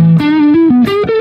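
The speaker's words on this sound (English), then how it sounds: "It's always a chorus. And then I will have an overdrive." Electric guitar played through chorus and overdrive on a Line6 HX Stomp XL, a short loud distorted phrase of sustained notes stepping through several pitches, shimmering slightly, with no talking.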